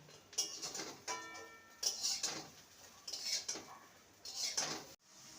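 Fried kakrol lifted from a pan into a bowl after the gas is switched off, a handful of close metallic clinks and scrapes of utensil on cookware separated by short pauses, quiet overall.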